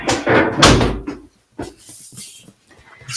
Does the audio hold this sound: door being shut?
yes